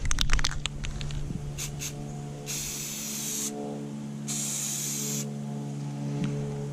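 Aerosol spray paint goes onto a part in two bursts, each about a second long, with a steady hiss up close and a quiet interval between them, and no voices.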